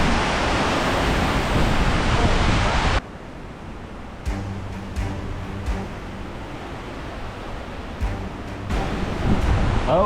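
Hurricane Milton's wind roars as a loud, dense rush for several seconds, then drops off and surges again in uneven gusts with scattered clattering and knocks.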